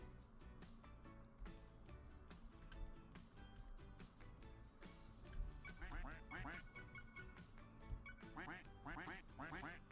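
Cartoonish ducks quack over and over in the Roblox game Duck Army, a dense flurry of calls layered over busy game music and effects that grows thicker toward the end.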